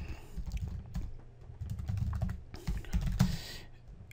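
Steady run of keyboard typing, entering an SEO title for a web page, with clustered keystrokes rattling close and fairly loud throughout, no voice.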